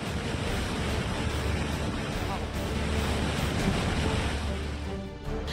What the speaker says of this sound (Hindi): पानी के तेज बहाव के साथ पहाड़ों का मलबा भी लोगों के घरों के आगे से गुजरने लगा।